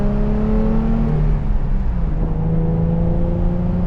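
A Nissan 350Z Roadster engine rumbles deep, raspy and steady from close by, its pitch rising and falling slightly as it pulls along under load in traffic.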